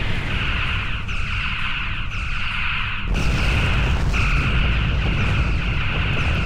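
Heavy booming blasts from torpedo hits destroying a ship in Star Trek Online, a sustained loud rumbling wash with a sharp jump in intensity midway, over steady higher-pitched space-battle drones and no talk.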